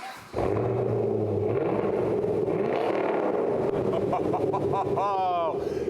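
A Camaro engine with new bolt-on upgrades cranks and fires up after a brief quiet start, then settles into a loud, throaty idle with a few revs, while voices talk over it.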